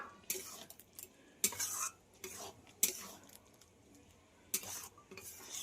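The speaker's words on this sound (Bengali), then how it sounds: "ঘিটা দিয়ে আবার একটু নাড়িয়ে দিলাম" Radish curry stirred in a pot after ghee is added, with intermittent scraping and clanking bursts of a spoon against the pot over a faint background sizzle, close and moderately quiet.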